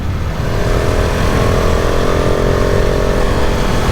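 A KTM 690 Enduro R single-cylinder motorcycle being ridden, a loud steady engine drone mixed with heavy wind rush, close and continuous without speech.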